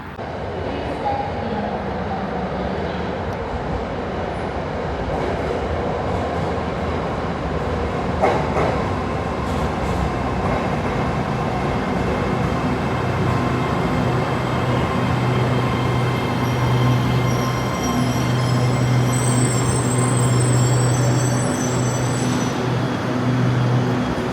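A Bangkok Red Line electric train pulls into an elevated station with a rising mechanical hum and rumble of wheels on rail, joined by a steady high electric whine and tonal hum that grows louder as it approaches, sustained for about twenty seconds.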